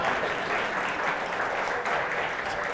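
Steady applause from an audience at a business presentation on employee feedback data, a dense even wash of clapping held at one level throughout with no voices over it.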